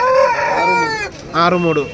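A rooster crows twice at a poultry market in Mydukur, Kadapa district, each call loud and close, with a short gap between the two crows.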